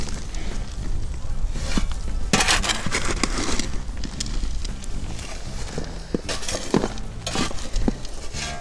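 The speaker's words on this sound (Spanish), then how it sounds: "aquí vamos eh, revolviendo todos estos materiales" Coarse soil substrate materials being mixed by hand for transplanting a citrus tree, producing a steady scraping, gritty churn with repeated clinks and crunches throughout, fairly close, with no talking.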